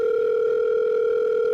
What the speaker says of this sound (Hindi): फोन की रिंगटोन वहीं बजने लगती है